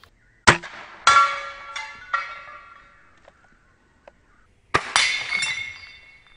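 Arrows from an EK Archery Cobra Adder striking plate targets: several sharp ceramic shattering cracks with tinkling debris, close and loud, separated by short silences.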